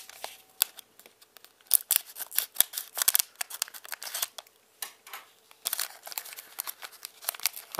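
Dragon Ball Heroes card booster boxes being opened, with a rapid run of sharp, crisp snips, crinkles and packaging rustles, close and fairly loud, with no talking.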